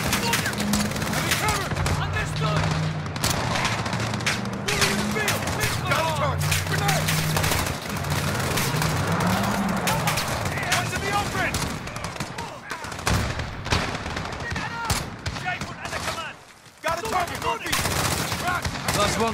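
Intense gunfire in the Call of Duty Modern Warfare embassy mission: rapid automatic bursts and scattered shots crackle almost nonstop, with soldiers shouting over the battle noise.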